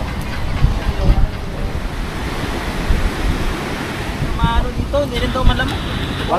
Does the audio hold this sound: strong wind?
yes